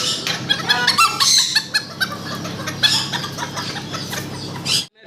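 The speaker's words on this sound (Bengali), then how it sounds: "আরও তিন পিস ফেন্সি মুরগি আছে" Fancy chickens on a farm cluck and chatter busily and close by, a dense run of overlapping clucks without any talk over them.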